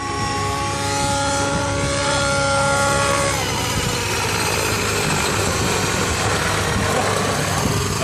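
A T-Rex 700 RC model helicopter flies with a loud, steady high-pitched motor whine and rotor buzz, the tone shifting downward midway as the load changes, continuous throughout with no talk.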